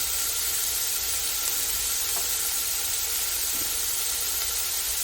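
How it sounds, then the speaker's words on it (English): Meat searing in a multicooker pot, a steady broadband hiss with no pops, constant and fairly loud throughout, with no talking. "we're going to turn that off and sear now"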